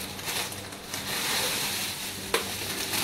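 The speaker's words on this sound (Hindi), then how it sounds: "बस हल्का सा घी में इसको पहले फ्राई करना है" Soft, continuous sizzling of food frying lightly in ghee for sweet toast, a close crackling hiss with a brief stir-like clatter partway through.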